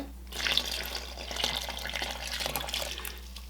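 Slightly warm water poured into a bowl for pizza dough, a short, steady splashing gush lasting a few seconds, close and fairly quiet, ending with a sharp knock.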